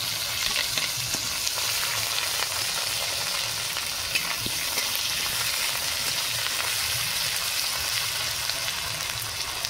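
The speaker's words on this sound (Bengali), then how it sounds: "আদা বাটা দিয়ে দেবো।" Ginger paste frying in a pan with chopped tomato for Kashmiri aloo dum, a continuous close sizzle with small crackles and pops, steady for several seconds without talk.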